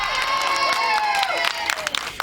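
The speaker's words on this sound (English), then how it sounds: "The applause as they carried their baby out of court was just the start" Applause and cheering from a crowd outside a New Jersey courthouse as a gay couple carries their adopted toddler out of court; dense, steady clapping mixed with voices and shouts throughout.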